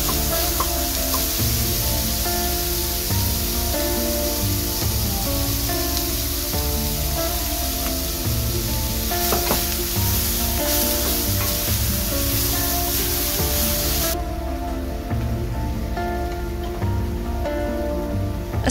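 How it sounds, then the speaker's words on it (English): Frozen corn frying in a pan over medium-high heat gives a steady, dense crackling sizzle like rain on a surface, continuous and close, with a bright hiss that drops away near the end. "I cook this on medium-high heat until it is cooked through and add the seasonings."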